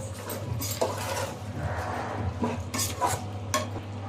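A spoon scrapes and stirs washed rice into chicken in a metal pot for chicken biryani, with soft clinks over a steady low hum and faint sizzling.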